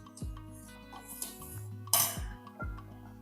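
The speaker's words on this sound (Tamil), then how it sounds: "நல்லா கரண்டிலேயே நல்லா அந்த மாதிரி மசிச்சு விட்டுக்கலாம்" Curd being mashed with a ladle in a bowl, with metal scraping and clinking against the sides in repeated strokes, a few sharper knocks standing out over a steady low hum.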